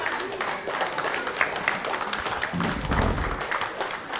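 A crowd of guests at a holiday party gives a round of applause, moderately loud clapping running throughout with scattered taps and a brief low thump near the end, voices mixed in.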